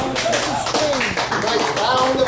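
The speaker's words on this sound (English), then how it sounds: "Nice round of applause" Audience applause for a comedy team performing at Espresso Joe's café, a dense steady clatter of many hands lasting a couple of seconds, with voices and whoops mixed in over it.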